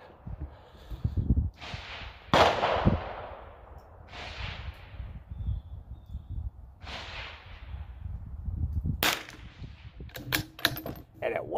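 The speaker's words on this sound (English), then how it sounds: "Last shot with the Ruger Precision." A .22 Ruger Precision rifle fires several sharp, sudden cracks at an outdoor range, each followed by a brief decaying tail, with a cluster of clicks and handling noises near the end; no voices.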